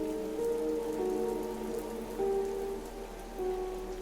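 Steady rain falls on surfaces as a continuous wash of drops, with sustained soft tones layered over it and no talk.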